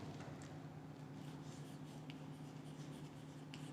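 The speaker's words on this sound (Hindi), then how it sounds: "मैं यहाँ पे चलो लिखता हूँ इनको ताकि क्लियर हो आपको" Chalk or marker strokes from a teacher writing on a board in a chemistry classroom, faint scratchy rubbing spread across the clip over a steady low electrical hum, with no talking.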